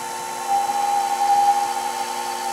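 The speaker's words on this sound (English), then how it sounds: "Now we're going to take a very shallow cut" Metal lathe spinning at higher RPM while taking a very shallow turning cut, with a steady high whine as the tool meets the workpiece and slight swells in level, close up and without speech.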